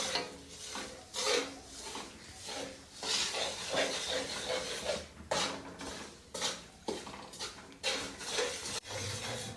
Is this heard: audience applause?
no